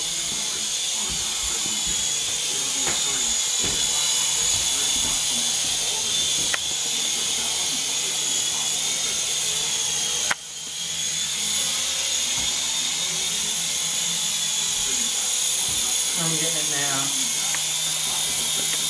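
A Syma S111G radio-controlled toy helicopter flies indoors with a steady, close, high whine that holds for the whole stretch, briefly dipping once, while people talk in the background.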